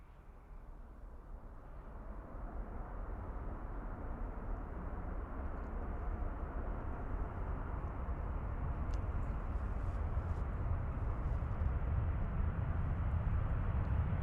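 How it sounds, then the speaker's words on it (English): A Qatar Airways Dreamliner airliner arriving from Doha at Dublin Airport, its engines a steady broad roar that swells slightly and holds loud and close throughout. "Qatar in from Doha"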